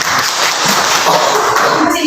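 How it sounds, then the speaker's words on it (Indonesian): Students in a classroom clap together during a geography lesson, a dense, steady patter of hands lasting about two seconds, fairly loud and close, with some voices mixed in. "Oke, beri tepuk tangan."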